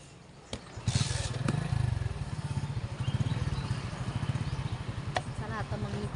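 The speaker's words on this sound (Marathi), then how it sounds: "आता आम्ही गाडीवर बसतो आणि निघतो" A motorcycle with riders aboard starts off and keeps running with a loud, steady, close puttering engine throb, and voices are heard near the start.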